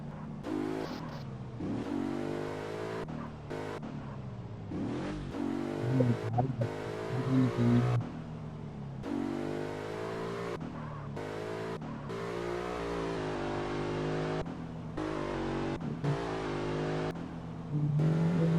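A car in a GTA roleplay game drives and revs, its engine climbing and dropping through repeated gear shifts with occasional tire squeals, loud and continuous throughout.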